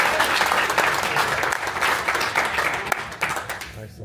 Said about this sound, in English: One more round of applause for Angelo.